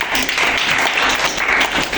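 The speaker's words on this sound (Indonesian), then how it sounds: "Tepuk tangan." An audience claps together at an event, a dense continuous patter of many hands at close range, loud and steady for a short burst with no talk over it.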